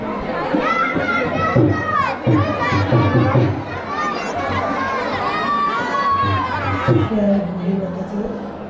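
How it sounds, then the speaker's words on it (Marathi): A dense crowd of devotees at the Khandoba temple in Jejuri, near Pune, fills the space with continuous overlapping chatter, children's voices and shuffling movement, loud and close all the way through. "बरीच गर्दी आहे इथं."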